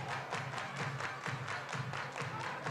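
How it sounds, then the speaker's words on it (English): A group at a Baltimore public housing community event claps hands together in a steady, even rhythm, faint and somewhat distant, with the beats landing at regular intervals throughout. "Everybody clap your hands."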